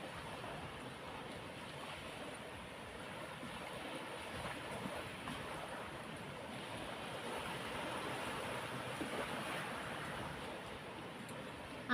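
The sea, seen from high ground near Valencia, gives a faint, continuous wash of surf. It sounds distant and is mixed with soft wind noise on the microphone.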